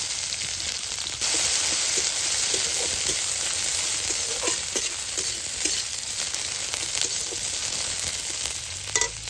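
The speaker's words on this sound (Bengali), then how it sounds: "পেঁয়াজ রসুন ভাজা ভাজা হয়ে আসছে" Chopped onion and garlic crackle and sizzle in hot oil, with a spatula scraping and stirring at an irregular rhythm throughout.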